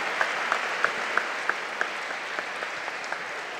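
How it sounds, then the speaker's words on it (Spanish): Audience applause at a fifth-anniversary event, a soft, even patter of many hands with a few sharper individual claps standing out at regular intervals, moderately distant and unbroken. "vamos a aplaudir"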